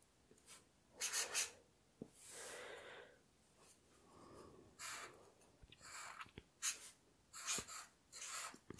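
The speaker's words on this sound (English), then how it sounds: "for the last phrase, we're gonna write it down." Pen or pencil writing on paper during a German phrase lesson, heard as close, soft scratchy strokes and rubbing in short bursts with pauses, quiet and without talk.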